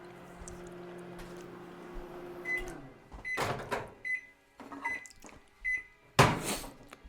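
A microwave oven hums steadily while heating a churro, then stops, followed by door clunks, clicks, short beeps and a loud final thud nearby.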